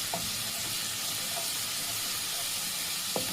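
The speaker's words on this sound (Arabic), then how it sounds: "ادي تشويحة كده للتومة لحد كده ما الزيت يسخن معايا" Garlic sizzles and hisses steadily in heating oil in a pan, a close, constant frying crackle with a couple of faint clinks.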